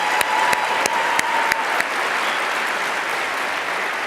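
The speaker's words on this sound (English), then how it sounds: "let's give our 4 finalists another great round of" An audience claps for four orthodontist finalists at an awards presentation, giving sustained, fairly close applause with a few sharper individual claps standing out before it settles into an even patter.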